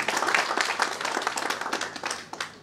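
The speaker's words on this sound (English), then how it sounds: "I request you to welcome them once again with a big applause." Audience members at a book launch event clap in a moderate, uneven round of applause, with individual claps standing out against softer background clapping.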